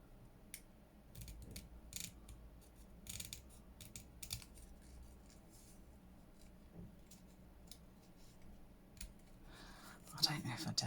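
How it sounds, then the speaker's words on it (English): Scissors snip around a thick paper image for a junk journal, a run of quiet, close crisp cuts spaced unevenly, with faint rustling and handling noise in a near-silent room. "I'm going to have to fussy cut around this because it's way too thick"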